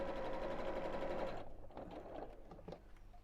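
A sewing machine stitching a cushion cover runs at a steady fast whir with a hum, then stops and leaves quieter handling noises.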